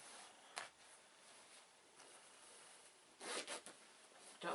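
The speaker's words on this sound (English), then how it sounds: "Yeah, so unzip the other section." Zipper on an insulated picnic bag drawn open in a few quick rasping pulls, close and fairly soft, separated by quiet pauses with no talking.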